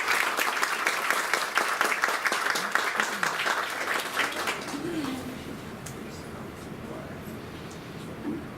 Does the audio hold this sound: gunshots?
no